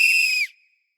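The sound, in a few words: whistle blowing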